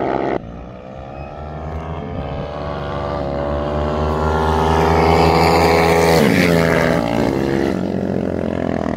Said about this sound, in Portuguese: Vixe, a moto saiu, moleque.